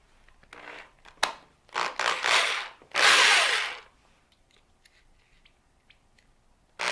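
Small power drill with a fresh bit spins in short bursts, several whirring runs of rising and falling loudness, the longest near the end, close and alone before trailing into quiet.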